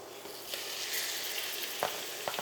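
Ground turkey sizzles loudly and steadily as it browns in a hot pan, with a few soft scrapes of a spoon near the end and no talk.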